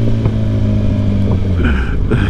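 A Corvette engine rumbles loud and close as it downshifts, a deep steady drone with the pitch rising briefly in short blips as gears change.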